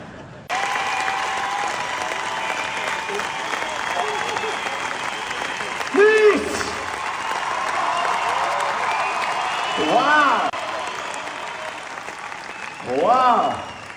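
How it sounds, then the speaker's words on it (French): Show audience applauding and cheering at a live comedy evening, a steady broad clatter of clapping over the whole stretch, with brief louder whoops and shouts rising from the crowd now and then. "On peut l'applaudir encore une fois, s'il vous plaît"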